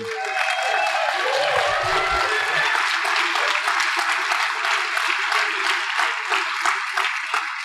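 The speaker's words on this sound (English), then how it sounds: "I want you to all stand up and clap for him" A standing audience at a live show gives sustained, dense applause that holds steady throughout, with a few cheers mixed in early.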